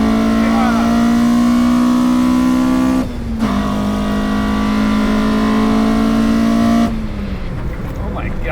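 Toyota GR Corolla engine droning loudly from inside the cabin, a steady held tone that dips briefly around the middle and again near the end as the revs change, with no talk over it.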